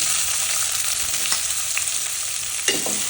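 Chopped onion frying in hot oil with bay leaf and cardamom, a loud, steady, close sizzle with a few stirring scrapes and a sharper clank near the end.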